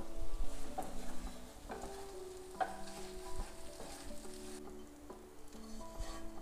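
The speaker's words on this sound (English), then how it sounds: "This is a hot griddle I got going on right here. We're gonna toast that up." Mayonnaise-coated bread sizzles steadily on a hot griddle for a patty melt, a close, continuous frying crackle with occasional scraping and no talking.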